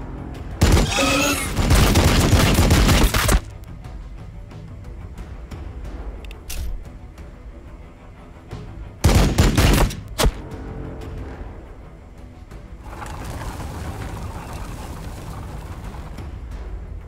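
Heavy gunfire from units in Warhammer 40,000: Battlesector: loud, dense bursts of shooting that last a few seconds, with a second short volley later and steady battlefield rumble in between.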